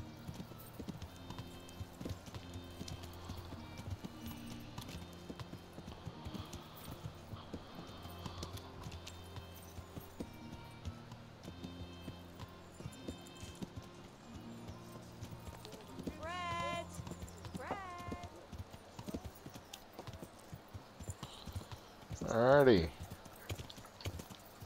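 Horse hooves clip-clopping through a town in Kingdom Come: Deliverance, steady rhythmic footfalls under faint music, a person talking intermittently over them and a brief horse whinny near the end.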